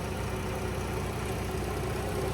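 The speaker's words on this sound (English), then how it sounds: "as you guys can tell, very smooth running engine" A 2013 Dodge Grand Caravan SXT engine idles smoothly with a steady, even hum and a low, continuous rumble, close and unbroken with no talking.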